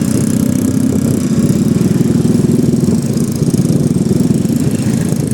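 Motorcycle engine idling and slowing at a street intersection, a steady close low rumble with even throbbing pulses throughout, no voices.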